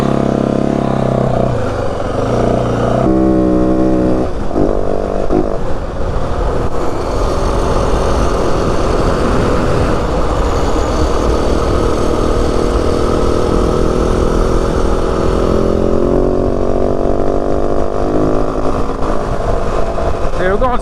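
A 2025 Yamaha WR 450F dirt bike cruising at about 60 in fifth gear through the Santa Rita mountains, its steady loud engine drone and wind rush continuous throughout, with a rider's voice talking over it.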